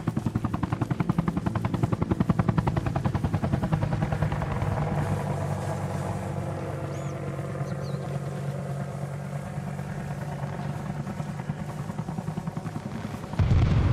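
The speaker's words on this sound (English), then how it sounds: "Tucker, our server has the MI-28." MI-28 attack helicopter in the military game ARMA Reforger, a steady, heavy rotor thump and turbine drone that continues throughout, with a sharper burst near the end.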